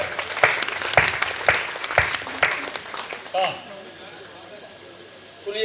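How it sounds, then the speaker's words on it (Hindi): An audience at a Hindi poetry gathering claps in an even, rhythmic beat for about three seconds, then the clapping stops and a voice speaks briefly before the room goes quiet. "अगर आप सुनना चाहते हो तो एक बार हाथ उठा के तालियां बजाएं।"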